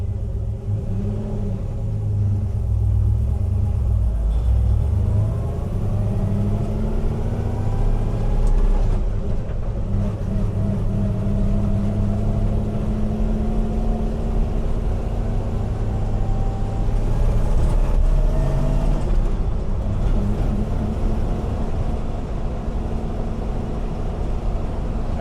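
A 1966 Land Rover Series IIa 109 restomod runs and drives, giving a continuous low engine rumble, with rising and falling tones as it works through gears at a steady, moderate loudness.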